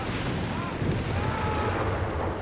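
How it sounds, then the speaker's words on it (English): A towed howitzer delivers artillery fire in a Company of Heroes 3 battle, heard as a steady wash of distant booming and rumble that lasts throughout, with a voice speaking over it. "we actually get the howitzer there, the towed one, called in by BlueMoon"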